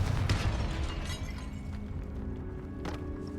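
A Confringo blasting spell goes off in the game Hogwarts Legacy, a shattering burst with a low boom that decays into a rumble, followed by a second, sharper crack near the end.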